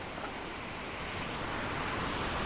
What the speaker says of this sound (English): the waves are still kind of big